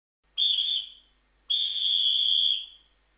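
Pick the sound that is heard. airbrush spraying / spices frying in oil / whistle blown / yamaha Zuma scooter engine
whistle blown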